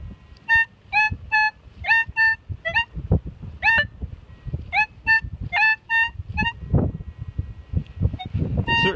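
A metal detector sweeping a trash-strewn patch of ground in Pittsburgh gives about a dozen short, bright tonal beeps in quick bursts, some bending in pitch, over soft scuffing and handling noise.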